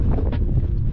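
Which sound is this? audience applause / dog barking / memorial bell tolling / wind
wind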